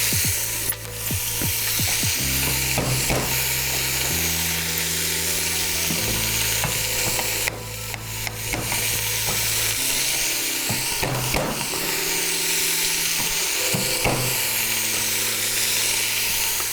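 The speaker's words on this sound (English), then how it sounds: "So we want to saute these just for a few minutes." Celery, carrots, onion and garlic sauté in an Instant Pot after meat has been seared, giving a steady hissing sizzle under background music for the whole stretch, with a few sharper clicks and scrapes.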